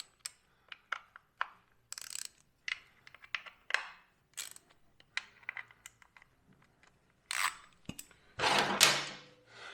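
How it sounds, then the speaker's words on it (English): Motorcycle bolts being broken loose with a T27 Torx driver, a series of sharp metallic clicks and ratcheting snaps spread irregularly, quiet and close, ending in a louder grinding burst. "I'm gonna take my T27 Torx, and I'm just gonna break all these loose"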